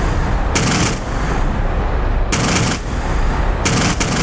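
Air defence guns in a video game firing at a swarm of Shahed drones: loud bursts of rapid automatic fire come in three separate volleys over a continuous heavy background of battle noise.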